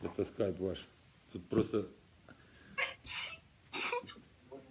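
A single sneeze comes through a Skype call, with a couple of sharp bursts following someone speaking Russian; the talk comes first, then the quick, breathy sneezes.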